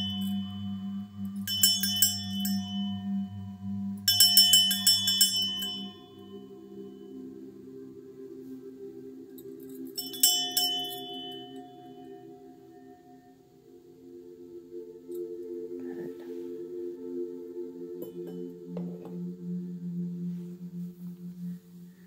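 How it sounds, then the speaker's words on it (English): A bell rung gently during an energy healing session, clear ringing tones with a shimmering strike struck three times early on, each decaying slowly, followed by softer sustained tones and quiet resonance. "please be aware I'm about to ring this bell. Not too loud."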